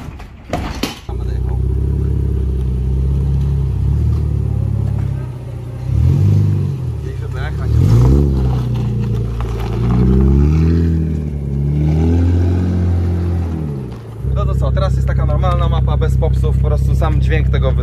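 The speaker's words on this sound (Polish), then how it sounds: "Sam dźwięk tego wydechu japońskiego Tomei z dekatami sobie osłuchamy, jak to działa. On jest bardzo głośny" A Nissan 370Z with a loud Japanese Tomei exhaust, decat pipes and a flame map, idles with a deep rumble and then revs up and down several times in close, loud, rising and falling sweeps before settling back to idle.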